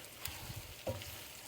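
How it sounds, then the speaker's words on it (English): Spinach and onions sizzle in extra virgin olive oil as a pasta casserole filling is tossed in the pan, giving a soft, steady frying hiss with a few light stirring clicks, heard close but quietly, with no talking. "you just want to keep tossing it in the extra virgin olive oil"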